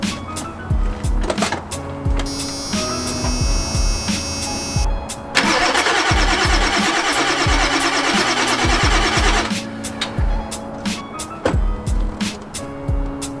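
A truck engine with 140,000 hard miles cranks with a whining starter at 30 degrees, turns over loudly for several seconds, then drops back to a rough, rhythmic chugging.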